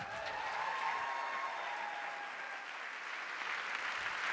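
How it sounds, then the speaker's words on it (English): An audience applauds two best-selling novelists, Rebecca Serle and Laura Dave, as they are welcomed, with steady, dense clapping from a large crowd that holds at an even level throughout. "please give a round of applause to best-selling novelists Rebecca Serle and Laura Dave."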